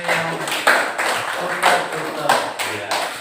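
Classroom clapping for a student group during an Islamic religious education lesson, a few bursts of hand claps rising and falling over about three seconds, with voices mixed in.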